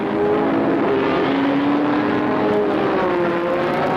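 Racing cars at the 1966 12 Hours of Sebring, with a Ferrari and the smaller-engined Dino Ferrari among the field, roar past in a steady, loud engine drone with rising and falling pitch as the pack speeds away.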